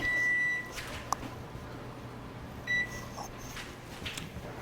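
A kitchen oven beeps to signal it has finished preheating for an apple pie: a sustained electronic tone at the start, then a second short beep a couple of seconds later, over a quiet room.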